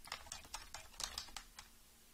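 Keystrokes on a computer keyboard tapped out in quick, slightly uneven bursts, close and clear with no voices over them.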